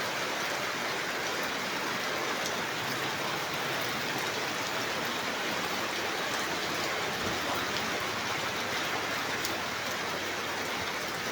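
Steady, continuous rainfall, a dense even patter that holds at the same level throughout with no pauses.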